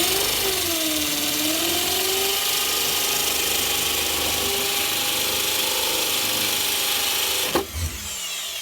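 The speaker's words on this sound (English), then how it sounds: "With a good sharp drill bit and a good hammer drill, it makes quick work of the concrete block." Hammer drill with a sharp bit boring into concrete block, a loud close steady whine with a rattling hammer action that runs for several seconds, then stops abruptly with a sharp clunk near the end.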